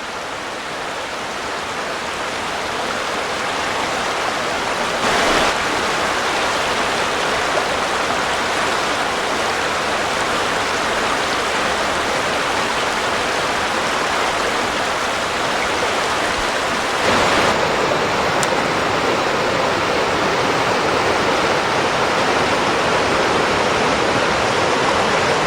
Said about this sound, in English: there's little rapids and waterfalls coming right down into here.